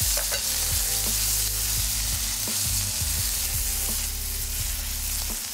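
Tomatoes sizzle steadily in a hot pan as water is added, a constant crackling hiss with occasional clinks and scraping from stirring.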